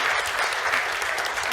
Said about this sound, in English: So let's go with a second applause for her.